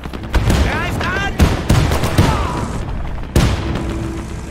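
Gunfire in the WWII real-time strategy game Men of War II: loud bursts of shots and booming impacts, some rapid machine-gun-like volleys, with game voice lines heard among them.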